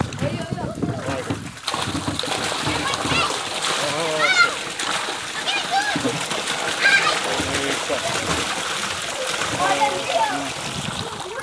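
Water carrying pirarucu fingerlings is poured into a tank, giving continuous loud splashing and sloshing close by, with people talking over the churning water throughout.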